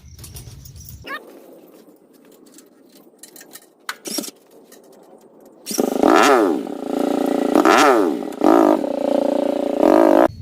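A motorcycle engine revs in repeated loud bursts, rising and falling with throttle, after a quieter stretch of background noise and scattered clicks.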